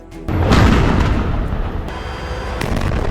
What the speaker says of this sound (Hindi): इजराइल की सेना ने यहां मिले विस्फोटकों को उड़ा दिया